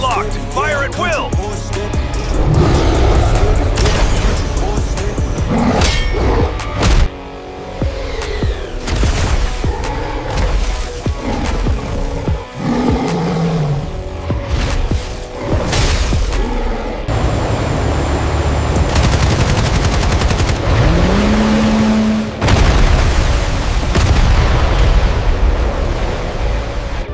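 Army gunfire and heavy explosions fired at a giant gorilla attacking Shanghai, a dense, continuous barrage of booms and blasts with rumbling low end, loud and close, with a few brief rising whooshes and muffled voices mixed in.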